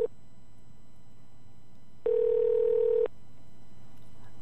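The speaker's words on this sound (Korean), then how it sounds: "제가 전화를 드렸는데 왜 전화를 안 받으시죠?" A single steady electronic ringback tone on an outgoing telephone call lasts about one second, clear and close over a faint steady line hum, with silence before and after.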